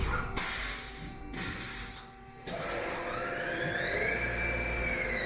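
A steady, loud hiss of a machine spraying coolant, broken by brief pauses, with a whining motor tone rising and falling beneath the spray.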